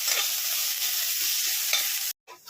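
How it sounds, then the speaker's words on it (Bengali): Chopped garlic frying in a pan with onion while being stirred, a bright steady sizzle close up, cut off briefly near the end. "দিয়ে আমি রসুনটাকেও এর মধ্যে ভেজে দিচ্ছি ভালো করে"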